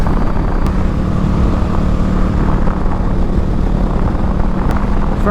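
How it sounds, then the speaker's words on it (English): A 2020 Honda Rebel 500 motorcycle, fitted with modifications, drones steadily while being ridden, its engine note buried in heavy, constant wind rush at close range with no break. "I am riding a 2020 Rebel 500."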